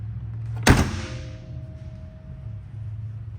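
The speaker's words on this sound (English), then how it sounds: "Now I'm going to go ahead and lower the hood" The hood of a 1973 Chevrolet Corvette convertible comes down with a single solid thunk, followed by a faint lingering ring over steady low background rumble.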